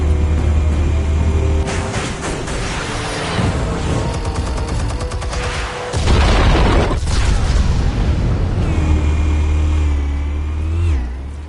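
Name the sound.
explosion in Batman: The Telltale Series video game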